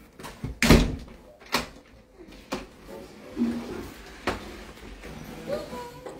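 A room door swings shut with a solid thud near the start, followed by a few lighter knocks and handling bumps, with faint voices in the background.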